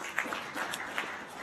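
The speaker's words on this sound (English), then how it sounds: "can we clap hands for him?" An audience claps for the President of Somalia at a formal gathering in Liberia: dense, steady applause from many hands, fairly loud throughout the short stretch.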